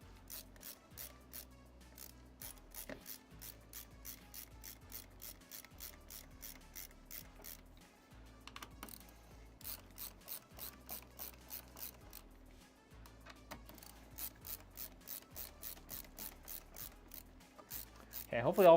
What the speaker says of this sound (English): hopefully all 4 of those bolts are on now, because we're tightening this one down all the way